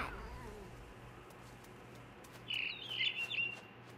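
A barn swallow chirps in the video game What Remains of Edith Finch, a brief run of high twittering calls near the end over a quiet ambient game background.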